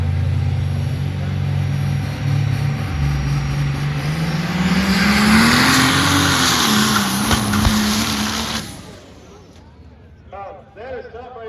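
A triple-turbocharged second-generation Cummins diesel truck launches off the line at a drag race, its engine note climbing in a loud rising whine and roar before cutting off, with an announcer talking over it.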